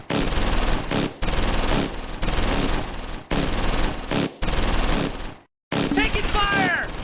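Sustained automatic machine-gun bursts in the Close Combat 4 Battle of the Bulge wargame at Losheim, loud and dense, broken by short gaps, with a brief silence before a final burst under a faint voice.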